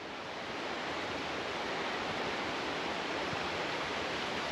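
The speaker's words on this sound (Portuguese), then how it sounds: "E tome água descendo aí, ó, na montanha." Rainwater rushes down a mountainside along a hiking trail, a dense, steady, unbroken roar of flowing water that holds constant for the whole stretch with no voices.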